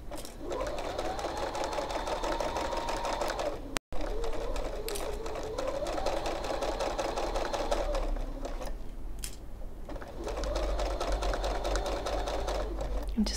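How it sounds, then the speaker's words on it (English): A domestic sewing machine running a steady straight stitch around the edge of fabric, a continuous fast mechanical whir with brief dips in speed and one short stop, close and prominent. "I'm going to sew around the edge with a straight stitch, so off we go."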